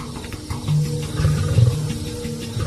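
A lion roars at nightfall in the wild, a deep, throaty rumble in several close, heavy pulses rising and falling over about three seconds.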